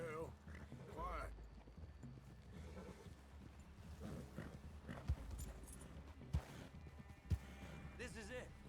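Horse hooves clip-clop in Red Dead Redemption 2, a steady clatter of steps with a few sharp knocks, sitting under ongoing talk from several voices and game ambience.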